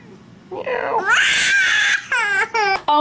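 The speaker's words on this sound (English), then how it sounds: "There's a cat under this little table thing" A cat lets out several loud, drawn-out, plaintive meows in quick succession, close by, with brief pauses between the cries.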